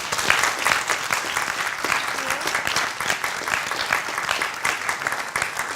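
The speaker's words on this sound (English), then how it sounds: "Let's give Jungwon a big round of applause." A studio audience on a Korean survival contest show applauds contestant Jungwon, with dense, sustained clapping that stays loud and even for several seconds and no voices over it.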